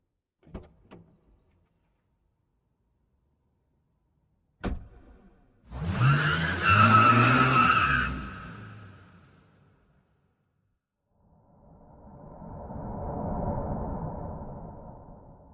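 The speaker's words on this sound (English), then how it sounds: "he watched her car kick dust in swirling storm" A car door clicks and slams shut, the engine starts and revs, and after a pause the car pulls away and fades, kicking up dust. No voices are heard.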